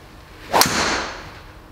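A Benross Evolution R golf driver, shaft 45.5 inches, strikes a ball with one sharp, loud crack that rings out briefly before fading, with no talk.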